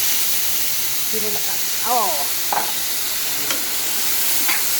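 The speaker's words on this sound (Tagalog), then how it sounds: "Lalagay ko na yung aking kamote cubes." Purple sweet potato cubes sizzle and hiss steadily in a hot pan with garlic and leafy greens, with a few soft stirring scrapes and faint chirpy sounds over the frying.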